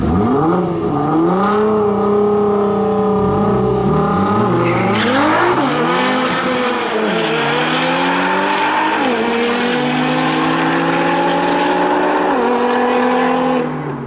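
A turbocharged car races against an all-wheel-drive car. Loud, close engine roar climbs through the gears with repeated rising pitch sweeps and shift drops, and turbo whine sits over a sustained high-revving drone for the whole run.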